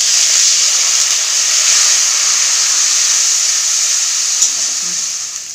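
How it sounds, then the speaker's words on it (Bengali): A little water is added to ground spices frying in a pan, raising a loud, sustained hissing sizzle that holds steady, with a faint clink near the end. "সামান্য জল দেব।"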